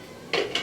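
Lid of a pressure cooker opening after cooking dal with pumpkin: two short metallic clanks about a quarter second apart, close and fairly loud against a quiet kitchen background.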